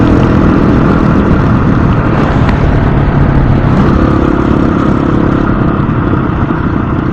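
An FE350s motorcycle engine runs hard while being shifted without the clutch, a loud, steady, close-up drone with no clearly separated gear changes and no talking.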